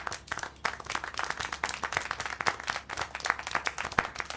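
Steady clapping from a character in the video game Syberia: The World Before, a brisk run of hand claps lasting a few seconds, close and fairly loud, with no talking over it.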